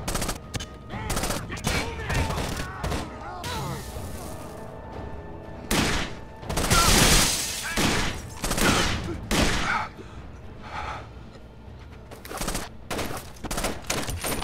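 Gunfire from the Rainbow Six Vegas 2 video game comes in loud, repeated bursts and single shots spread across the stretch, with some heavy booms and a few voices talking between the volleys.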